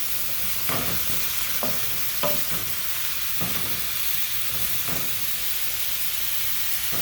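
Bite-sized wild mushroom pieces sizzle steadily as they are sautéed in a pan for a vegan dish, with a constant frying hiss broken by several sharp stirring clatters and sizzle bursts as more handfuls are added.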